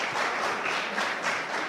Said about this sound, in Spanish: Reciban con un fuerte aplauso,